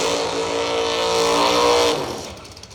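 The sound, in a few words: Corvette Roadster drag racing car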